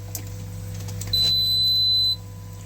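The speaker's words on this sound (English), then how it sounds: "Oh, we get a beep." A single steady electronic beep from a Hygger HG079 quartz aquarium heater being plugged in sounds for about a second over a low constant hum.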